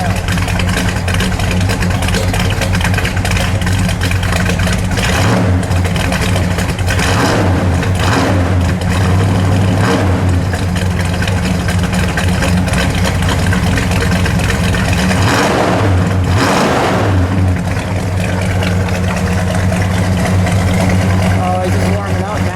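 A gold 1973 Buick Century Gran Sport T Code with a 455 V8 roars loud and close, its revs rising and falling in repeated swells over a deep, steady rumble.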